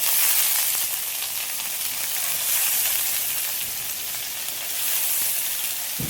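Soaked chana dal hits a hot pan with a loud, continuous sizzle and frying hiss that swells and eases in gentle waves, with no voices over it.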